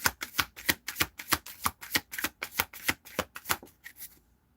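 Tarot cards being riffled and shuffled in a steady series of about fifteen quick, crisp bursts, close and alone, ending abruptly.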